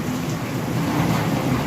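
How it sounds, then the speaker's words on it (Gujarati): Steady heavy rain pouring down with rumbling thunder during a windstorm in Sapar Veraval, a continuous dense wash of sound with no voices. "તારીખ 10/5/25ના રોજ વાવાઝોડા સાથે વરસાદ આવેલ છે।"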